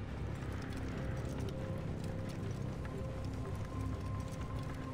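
A horse in Assassin's Creed Origins trots with a steady run of soft clip-clop hoofbeats over a low background bed, moderately faint and continuous, with no talk.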